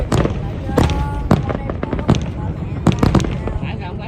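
A New Year 2020 fireworks display at Landmark 81 tower in Vietnam, with loud, rapid bursts and crackling booms in irregular clusters, recorded nearby while onlookers talk excitedly.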